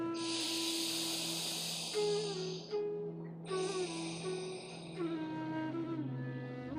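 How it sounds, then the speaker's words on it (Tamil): Slow, steady breathing through the left nostril during a yoga exercise, a soft airy hiss of long inhales and exhales over gentle background music. "இடது நாசியில் மெதுவாக மூச்சை உள்ளெழுத்து மெதுவாக மூச்சை வெளியே விடுங்க"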